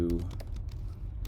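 Typing on a computer keyboard while writing code in a browser editor: a quick, close run of light key clicks, each tap distinct, with a voice under it.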